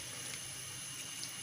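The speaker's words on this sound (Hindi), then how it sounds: "और इसके अंदर 1 कप पानी जो है वो ऐड कर देंगे" One cup of water pours into a pot of chicken qorma with yoghurt, a continuous soft splashing stream heard close and steady throughout.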